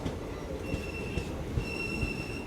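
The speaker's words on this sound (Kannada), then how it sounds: "ಶಿವಮೊಗ್ಗ ಟೌನಿಂದ ಯಶವಂತಪುರ್ಗೆ ಹೋಗುವ ಎಕ್ಸ್ಪ್ರೆಸ್ಸು" An express train from Shivamogga Town to Yesvantpur arrives at Kadur railway station at night, with a rolling rumble, rhythmic wheel thumps and thin squealing of steel wheels, and no talking.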